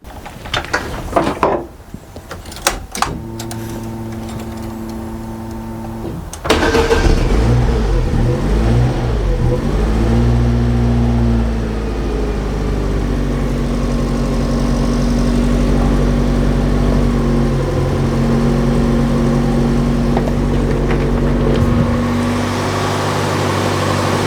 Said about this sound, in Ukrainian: автомобіль ожив. Все працює.